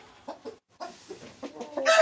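Several short clucking bursts from a rooster at close range, irregularly spaced, with a louder rustle or flutter at the end.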